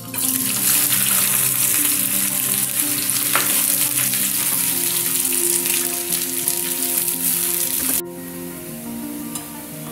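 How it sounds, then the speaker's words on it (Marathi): Sliced onions frying in a pan for chicken dum biryani, giving a loud, steady crackling sizzle with stirring scrapes that drops off sharply near the end as the heat fades. "आता आपण कांदा फ्राय करून घेऊया"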